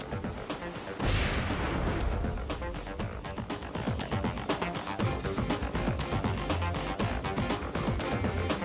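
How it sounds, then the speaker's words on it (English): Missile strikes in the mech strategy game Front Mission 5 land as a dense, loud barrage of blasts and crashing impacts, sustained over several seconds with a heavy rumble underneath. "You drop some missiles on the gunner."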